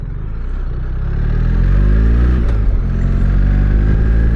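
A BMW R1300GSA adventure motorcycle on TKC80 tyres is ridden on a nice day, its boxer engine droning steadily and close, swelling as it gains speed, with no talking.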